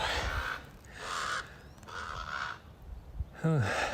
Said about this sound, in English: I hear the crow, but I don't see him.